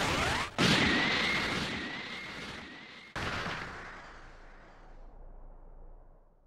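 A sudden roaring Special Beam Cannon energy blast in Dragon Ball Sparking Zero erupts, cuts off abruptly, then surges again and trails into a fading rumble, loud and close.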